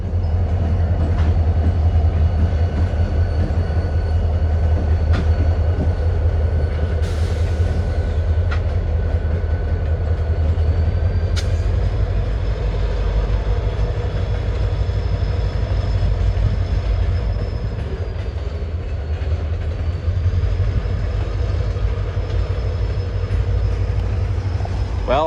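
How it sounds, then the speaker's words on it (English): A Canadian National train on the Matane Subdivision rolls past close by, a steady loud rumble of wheels and cars with faint squeals throughout, continuous for the whole stretch without a break. "there goes the train"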